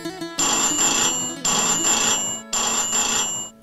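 A telephone rings in three repeated electronic bursts separated by short pauses, loud and close, with no talking.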